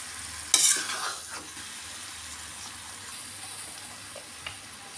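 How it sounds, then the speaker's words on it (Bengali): Mango pieces being stirred in a pot as they boil, lid taken off for stirring: a sharp metallic clank early on, then soft scraping and a faint simmering hiss with no talking. "হালকা আছে ঢাকা খুলে নাড়িয়ে নাড়িয়ে আবার ঢাকা দিয়ে দিয়ে আমটাকে এখানে সেদ্ধ করে নেব"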